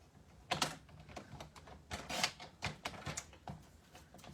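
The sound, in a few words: cutting card stock down to size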